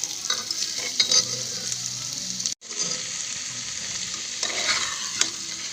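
Pork cooking with chili powder and salt in a pressure cooker pot gives a steady, close sizzle with stirring scrapes, broken by a brief moment of silence partway through.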